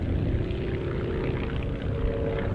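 Propeller aeroplanes flying in close formation at the Dunsfold Wings and Wheels airshow, a steady loud engine drone with a low rumble that holds throughout.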